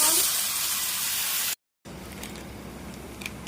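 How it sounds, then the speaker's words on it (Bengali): A loud rushing hiss of hot water hitting a hot pan of fried spices, which cuts off, then a quieter bubbling simmer with faint clinks. "আমি এখন গরম পানি দিয়ে দিব"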